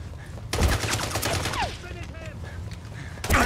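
Rapid bursts of gunfire ring out in a firefight in the James Bond 007: Blood Stone video game, loud overlapping shots with sharp peaks near the start and end, mixed with shouting voices.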